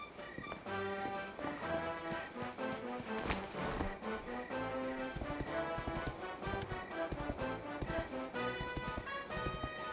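Rhythmic horse hoofbeats clop along under a dense wash of game music in Dragon Quest 11, steady and mid-distance throughout.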